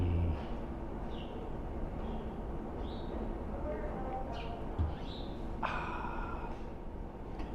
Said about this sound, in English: Love the birds chirping.